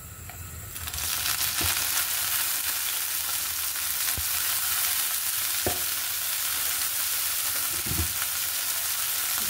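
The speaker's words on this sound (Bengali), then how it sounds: "ধনেপাতাও সামান্য ভেজে নেব" Coriander leaves lightly frying in a pan for a peel bhorta of pointed gourd, ridge gourd and sponge gourd, a steady hiss and sizzle with a few sharp stirring clicks, close and alone.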